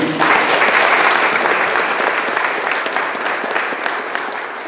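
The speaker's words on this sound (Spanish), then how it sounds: "Denle palmas al Señor" A church congregation applauds during a Sunday service, dense sustained clapping filling the room and fading slightly toward the end.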